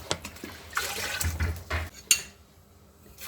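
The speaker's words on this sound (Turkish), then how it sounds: "2 su bardağı zeytinyağımızı katacağız" Olive oil pours into a container for Maraş pepper pickle, a soft liquid splashing and gurgling mixed with clinks of dishes and a sharp clink near the end, close and moderately loud, with no voices.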